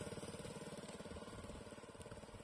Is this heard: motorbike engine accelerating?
yes